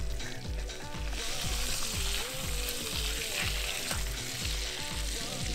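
A steak frying in a pan outdoors at a wild campsite, a steady close sizzle running beneath a repeating rhythmic musical beat.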